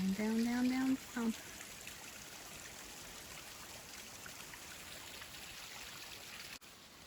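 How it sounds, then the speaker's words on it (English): A small mountain creek trickling across a forest trail in Worlds End State Park, a soft continuous flow of water heard close by, with a voice briefly at the start. "That's a little creek coming across the path, water coming down the side of the mountain here."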